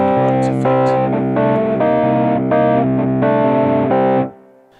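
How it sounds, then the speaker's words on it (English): Fender Rhodes-style electric piano on a Roland RD-2000 with overdrive from its amp simulator plays loud, gritty chords in a steady rhythm, then stops abruptly near the end, with no speech. "increase the amount of overdrive there is on the amp, so to give you this kind of distorted Fender Rhodes effect"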